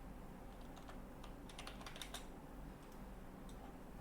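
Quiet keystrokes on a computer keyboard as a git clone command is typed, a short run of soft clicks with a denser flurry in the middle, heard alone.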